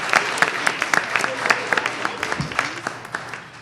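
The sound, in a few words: applause for students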